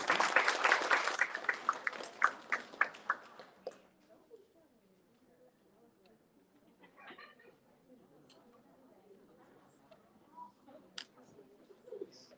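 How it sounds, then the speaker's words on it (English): A room of guests applauds a student at the Morgan Park High School 8th grade luncheon: a loud burst of clapping for about four seconds that quickly dies away, leaving faint murmurs and small room noises. "Now we can give him a round of applause."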